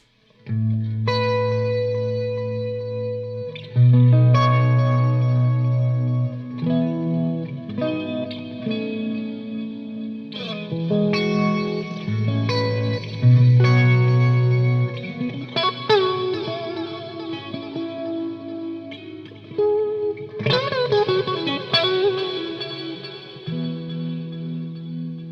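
Electric guitar played through a stereo univibe pulse pedal with compressor and reverb, clean chords and picked notes swirling with a throbbing, chorus-like modulation and lingering reverb tails, loud and close with no talking.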